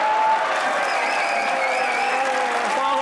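Studio audience applauding on a comedy talk show as the Pakistan hockey team captain walks on stage: continuous, steady clapping and crowd noise with a tonal layer of cheering or music throughout.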